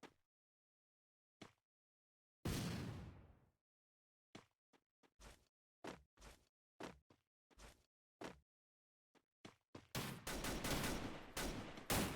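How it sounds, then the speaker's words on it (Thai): Gunfire in the video game Free Fire, heard as scattered single shots in short, sharp bursts separated by silence, then a longer dense volley at the end, loud and close, with no talk. "มันยิงกันเอง มันตีกันเอง"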